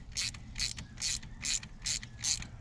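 Ratchet tightening shifter bolts on the aluminum transmission of a 1995 Mustang Cobra: six evenly spaced quick clicking bursts of pawl ratcheting, close and moderately quiet, with no talk.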